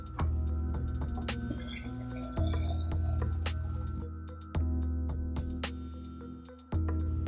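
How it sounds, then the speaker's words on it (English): Drink poured into a mason jar holding a couple of ice cubes, a close liquid pour with repeated sharp clinks and drips throughout, no talking. "I'm gonna go ahead and now pour it into my mason jar"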